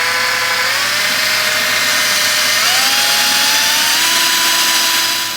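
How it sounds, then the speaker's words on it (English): A power drill with a metal bit bores holes in metal parts for a minibike torque converter upgrade, a loud, continuous close whine whose pitch climbs in steps as the bit works through. "We're just gonna use a drill bit."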